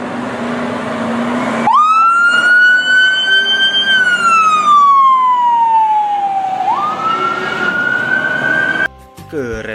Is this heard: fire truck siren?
yes